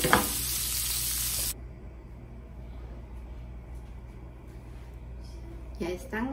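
Sausages fry in a pan with a loud, bright sizzle that suddenly drops to a quieter steady hiss, with a clatter near the end and a voice speaking over the cooking.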